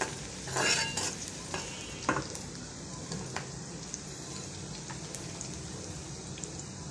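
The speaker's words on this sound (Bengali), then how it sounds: "ঢেঁড়স ভাজির জন্য পেঁয়াজ কাঁচামরিচ দিয়ে দিচ্ছি।" Onion and green chili sizzle in hot oil for an okra stir-fry, with a few brief stirring scrapes and spatters early on, then a steady soft frying hiss, close up and fairly quiet.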